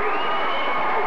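A basketball crowd at a 1986 national championship game roars and cheers after a fast-break dunk, a loud, sustained wall of voices.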